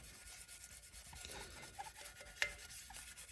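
Stainless steel motorcycle downpipes scrubbed with the grain, a faint, steady rubbing rasp in repeated strokes, with one brief sharper tap partway through.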